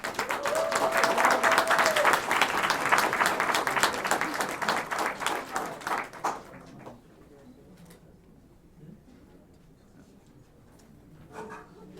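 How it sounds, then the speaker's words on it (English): Audience applause for an honoree at a heritage awards ceremony: loud, dense clapping for about six seconds, then it thins out and fades to quiet room noise with a few scattered claps. "Give him a round of applause."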